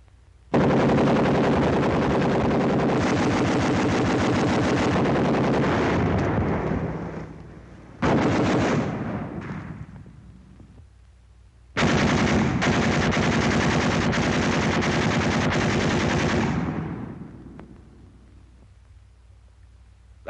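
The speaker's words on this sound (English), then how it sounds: "this is a machine gunner's dream. He can mow 'em down like wheat at 250 rounds a minute." A World War II .30 caliber machine gun fires two long, loud bursts of rapid shots, each cutting off and trailing into echo, separated by a shorter burst and pauses.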